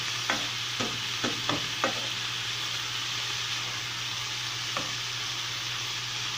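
Arrachera stew frying in a pan, with a constant sizzle and a quick run of five spoon scrapes and knocks from stirring, then one more later, close and moderately loud.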